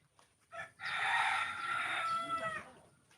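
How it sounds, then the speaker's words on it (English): A neighbours' rooster crows once in a long, drawn-out call lasting about two seconds, fairly close and loud over a quiet yard. "that chicken crows day and night"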